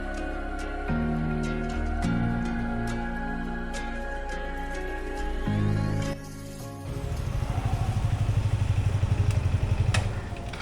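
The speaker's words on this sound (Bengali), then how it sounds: "অনেক দিন পর নিজের বাইকটা নিয়ে বেরোতে খুব মজাই লাগছে" A motorcycle out on an Independence Day morning ride, its engine droning steadily with gear changes and rising revs, close and continuous.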